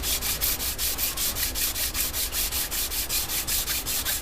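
Micarta being sanded by hand with 400 grit sandpaper: a steady run of quick, evenly spaced back-and-forth rasping strokes, close and fairly loud, with no voices.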